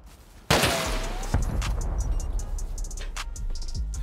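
Automatic turret gunfire in the video game Rust erupts suddenly as a loud, dense burst of rapid shots, then keeps rattling in a sustained barrage with scattered sharp cracks over the following seconds.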